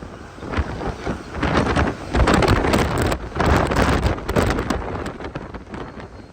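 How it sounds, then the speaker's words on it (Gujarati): Strong gusty storm wind roaring through trees in Maharashtra, rising and falling in loud surges with rustling leaves and some buffeting on the microphone. "હા અવાજ સાંભળો ઝાડવાનો અવાજનો"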